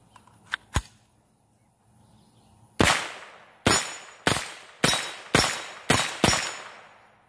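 Kel-Tec PLR-22 pistol firing .22 rounds outdoors, six sharp, loud shots in a quick, slightly uneven string, each with a short decaying tail, preceded by a couple of fainter clicks and handling noises.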